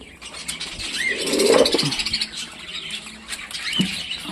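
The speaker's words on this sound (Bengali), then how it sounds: "দেখুন বন্ধুরা আমার কাছে কিন্তু দু রকমের লাভবার্ড পাখি আছে" Pet lovebirds, lutino among them, give brief squawks and chirps at fairly close range, rising to a louder burst midway, with background noise throughout.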